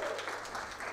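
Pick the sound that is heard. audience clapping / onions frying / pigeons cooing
audience clapping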